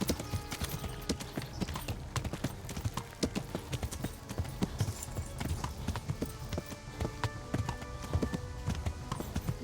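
Steady clip-clop of horse hooves in the medieval game Kingdom Come: Deliverance, a brisk, even rhythm of sharp knocks over a low ambient bed, close and prominent, with no talk.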